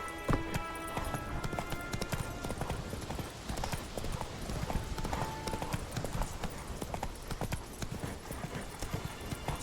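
Roach, the horse in The Witcher 3 video game, clip-clops along with steady, rhythmic hoofbeats that run close and continuous throughout, with faint game ambience underneath.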